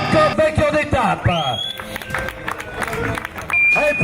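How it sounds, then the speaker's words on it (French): Crowd applause and cheering at a cycling stage-race winner's ceremony in Savoie, heard under a loud announcer's voice over a PA with whistle-like tones. "Allez, plus fort, les applaudissements"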